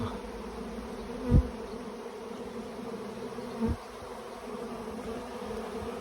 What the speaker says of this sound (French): Et dans 2 minutes, l'essaim est posé.